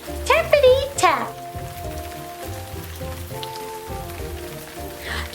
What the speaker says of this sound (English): Just like the rain on Elliot's window.